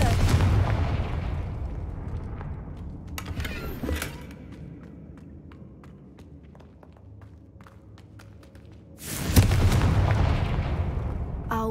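Confringo fire spell explosions in the video game Hogwarts Legacy: a loud fiery blast at the start, a couple of sharp bursts in the middle over quiet ambience, then another big booming explosion near the end.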